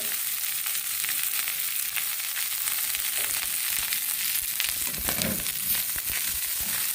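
Chopped garlic and onion fry in a pan with a steady, bright sizzle, joined by occasional scraping and stirring noises close by.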